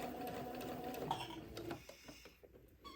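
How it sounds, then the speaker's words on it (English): A sewing machine runs close up, stitching a fabric seam in a steady rapid chatter that stops partway through, leaving faint clicks. "I'm just sewing immediately to the left of that first seam"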